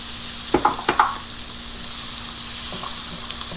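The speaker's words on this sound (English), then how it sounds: "Keep sauteing it on high flame." Beans, ginger and garlic sauté over a high flame for Chinese-style vegetable Manchow soup, a steady hiss of frying broken early on by a few sharp stirring clatters, then continuing as an even sizzle.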